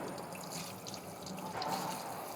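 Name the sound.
rinsing a Miele coffee maker part under running water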